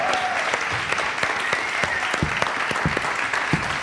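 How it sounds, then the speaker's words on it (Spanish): Audience applause for Arturo González Campos during a live interview show: a steady, dense crowd clapping runs the whole stretch at moderate loudness, with individual claps popping out near the end. "Un aplauso para Arturo"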